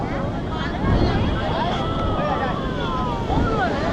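Strong wind and big sea waves on Puri beach during heavy rain, a steady loud roar and rush of surf with wind buffeting the microphone throughout, and faint voices in the background.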